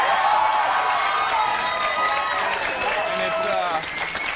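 Studio audience at a 2003 MTV talk show cheering, whooping and applauding loudly and continuously, a dense crowd roar that eases slightly near the end.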